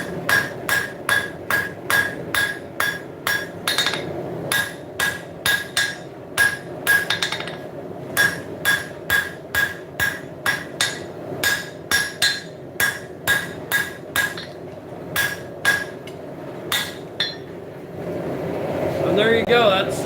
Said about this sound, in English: Now we're going to do some hand forging here in just a moment